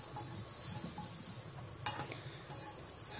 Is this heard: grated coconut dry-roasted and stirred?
yes